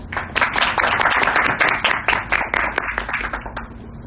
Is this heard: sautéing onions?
no